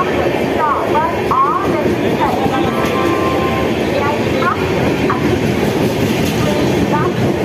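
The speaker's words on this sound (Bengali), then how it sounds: "ও তো বড় ট্রেন দেখেছো?" An express train rumbling past on a Sundarbans-area line, a loud continuous roar and wagon clatter filling the scene, with people talking faintly over it.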